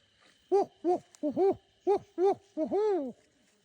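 A run of owl hoots, roughly seven in a steady pattern ending with a longer quavering call, distinct and nearby with silence around them.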